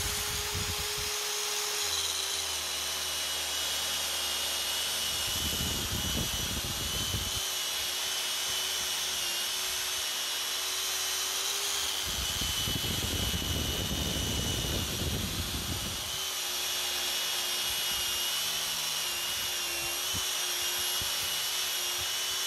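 A power tool whines steadily with a high, constant drone, broken by two harsher grinding stretches as a sanding disc blends a stainless steel TIG weld.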